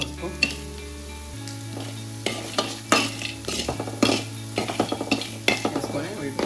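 Spices and turmeric fry in a pan with steady sizzling, punctuated by uneven clinks and scrapes of a utensil stirring against the metal, over a low background hum.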